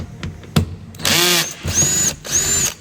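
A power tool, likely a drill or impact driver, spins 10mm bolts off the underbody shielding of a Tesla Model 3 or Y in two or three close, loud whirring bursts with short pauses between them.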